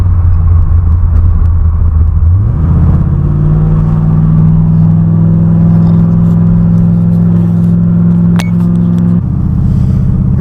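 A loud, deep engine rumble from a modified 1981 Camaro while driving, rising in pitch as it accelerates, then holding a steady cruising drone before dropping back near the end.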